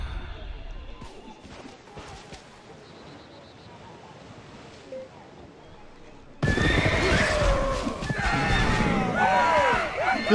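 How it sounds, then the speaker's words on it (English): A strategy video game battle has a large horse army: loud, repeated neighs and whinnies over galloping hooves erupt suddenly partway through, following quieter, murky game ambience. "This dude's got a full horse army."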